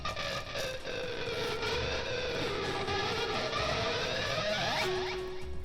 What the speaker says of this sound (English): this is like when he was scraping the strings like this